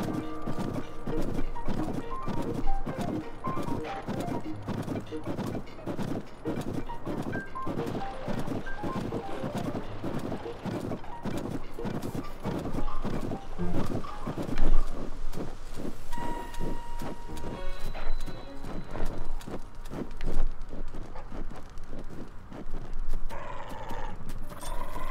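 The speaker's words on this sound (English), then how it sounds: "No doubt about it, this is Princess Zelda's steed for certain." Rapid, steady clip-clop of horse hooves from Princess Zelda's steed in the video game Tears of the Kingdom, continuing throughout with game sounds and effects layered over it and no speech.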